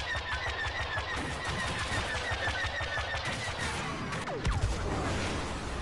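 Rapid, dense blaster and gunfire bursts rattle almost continuously in Star Wars Battlefront, with a whooshing sweep and heavier impact near the end.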